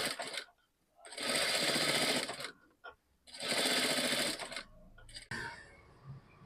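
A sewing machine stitches cord piping into fabric in two sustained loud runs of about a second and a half each, separated by brief pauses and short clicks.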